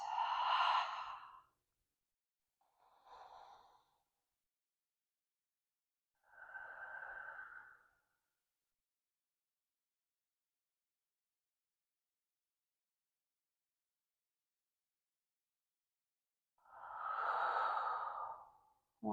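Slow, deep breaths during a yoga session for neck and shoulders, four soft, spaced exhalations separated by long silences, close and quiet.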